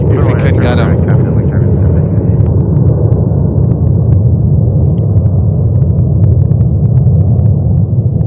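A Gulf Air Airbus A330 jet airliner's engines roar loud and continuous at an airport, with a deep steady rumble throughout.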